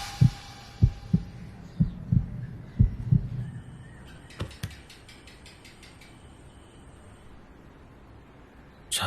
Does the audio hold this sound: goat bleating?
no